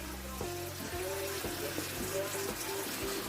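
Water running into a cooking pot, a steady loud gushing pour filling the whole scene, with rhythmic background music underneath.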